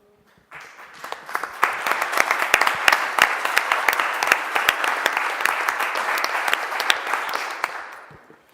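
A symposium audience breaks into strong, sustained clapping for Aurore after a debate. The applause starts abruptly, holds steady with dense overlapping claps for several seconds, then fades out.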